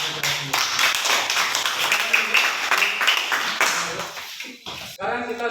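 A class clapping hands at the end of a lesson, a rattling burst of many claps at moderate level that thins out near the end as a voice begins speaking.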